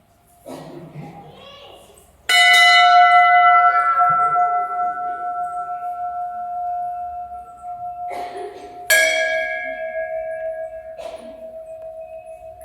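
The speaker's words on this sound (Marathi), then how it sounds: "घंटा वाजवूया आपण." A temple bell is struck twice, each loud metallic clang ringing out into a long sustained shimmering hum that slowly fades, with a voice and other people talking around it.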